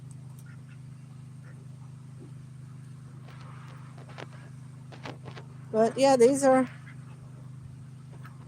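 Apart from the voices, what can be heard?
Icona ducks quacking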